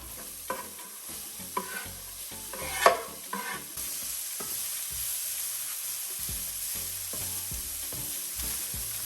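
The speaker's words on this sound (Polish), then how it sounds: "Czekam tak długo, aż cebulka się po prostu zeszkli." Chopped onion fries in a spoonful of rapeseed oil until translucent, a continuous sizzle broken by stirring scrapes and clacks of a utensil against the pan, close and moderately loud.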